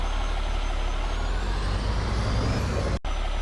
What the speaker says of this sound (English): I'm going to get this Kenworth and start loading up a few pieces of equipment